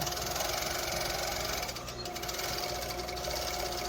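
A three-thread cover stitch sewing machine, running with no fabric while the pedal is pressed, gives off a steady, even mechanical chatter that holds at one speed throughout, close and fairly quiet.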